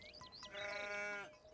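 A single sheep on a Greek mountain pasture lets out one drawn-out, wavering bleat, fairly faint and somewhat distant, with no other sound around it.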